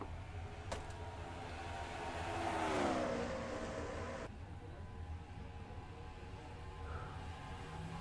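A pack of racing trucks in a truck series race at Dover: a loud engine drone swells and sweeps past midway, then settles into a steadier, more distant roar.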